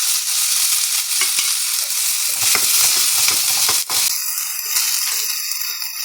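Poppy seeds sizzle and crackle in a hot pan while being stirred with a scraping utensil, a close, steady frying hiss marked by clattering stirs and rattles.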